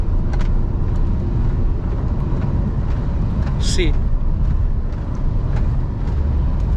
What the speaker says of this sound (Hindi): अभी मैंने कार इसे 100 में कर लिया, ठीक है, मैं इसके 100 पे ले जा रहा हूँ